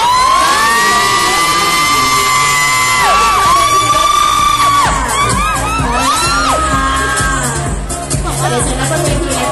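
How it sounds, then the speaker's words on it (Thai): Loud crowd screams, cheers and whoops from fans welcoming performers at a university fair stage event, continuous and dense throughout, with shrill pitched voices rising above a booming background. "ขอเสียงกรี๊ดและเสียงปรบมือต้อนรับ"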